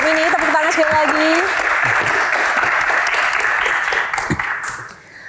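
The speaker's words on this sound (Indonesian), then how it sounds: "Tepuk tangan sekali lagi" Audience applause at a Q&A stage event, loud sustained clapping with a brief spoken voice near the start, tapering off and fading out at the end.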